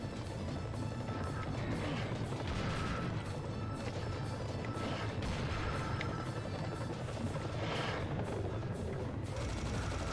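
A chain gun fires continuously in a video game as a dense, unbroken roar of rapid shots with booming impacts, sustained at an even loudness throughout with no pauses.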